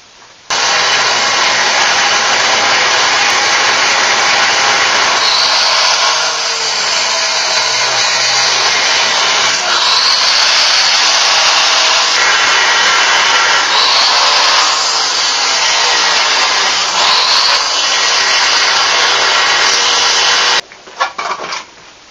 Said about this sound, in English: I'm only cutting about halfway through because I don't want those things to bind up on this blade and blow up and hit me.